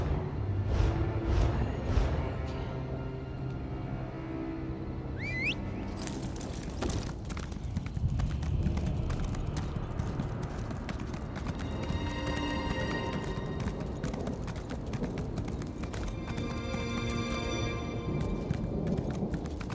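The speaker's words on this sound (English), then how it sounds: "I can just ride my horse." A horse gallops in The Elder Scrolls Online, rapid clip-clop hoofbeats running steadily and fairly close, layered with game sounds and occasional tonal effects.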